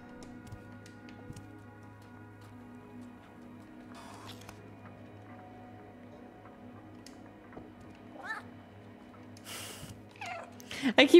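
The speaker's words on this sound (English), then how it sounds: "I keep forgetting about the meow button!" Cat meows triggered by the meow button in the Stray video game, short high calls rising near the end of the stretch over quiet game ambience and faint ticking.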